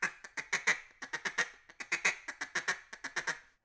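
A handheld duck call blown to imitate mallard hail and feed calls: rapid runs of clipped, nasal quacks in rhythmic bursts, loud and close, with no talking.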